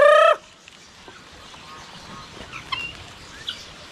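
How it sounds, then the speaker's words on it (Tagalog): A brief, loud gobble from a turkey right at the start, then quiet outdoor ambience with faint bird calls and scattered rustling. "May pabo pa dito"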